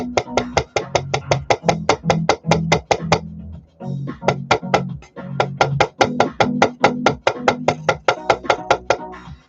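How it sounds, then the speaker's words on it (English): Rapid, steady hammer taps lightly denting thin aluminum, dozens of light ringing strikes in two long runs separated by a short pause. "I'm going to lightly hammer it, just to kind of dent it a little bit"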